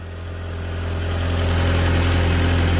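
Car engine idling after fixing PCV issues, a steady low hum with a rough, pulsing beat, close and getting gradually louder.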